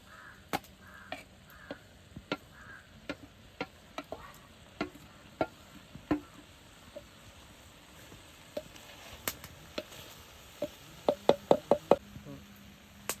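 Tapioca cooking with ground coconut paste in a pot, stirred with irregular sharp knocks and scrapes of a spoon against the vessel over a faint simmer, with a cluster of quicker taps near the end.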